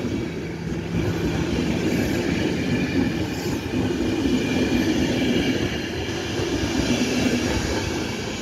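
The International Sobieski train passes close by on Polish tracks near Sopot, a steady, loud rumble of rolling wheels and rail noise that holds evenly throughout, with faint squeals and clatter on top.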